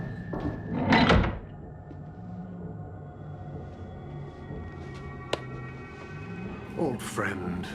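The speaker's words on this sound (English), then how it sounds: "Close the door." A door shuts with a solid thunk near the start, loud and close, then a dim interior hum carries on under quiet voices, with a faint click mid-way and a softer bump near the end.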